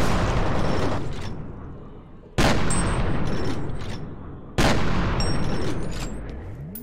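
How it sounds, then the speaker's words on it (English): Shotgun blasts in the video game F.E.A.R., two loud, close booming shots a couple of seconds apart, each decaying slowly into a long rumbling tail. "I'm shooting a shotgun that shoots multiple bullets"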